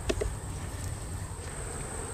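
Agitated honey bees buzz steadily and close, a dense insect drone with a few sharper passes near the start, as a frame is lifted from the hive.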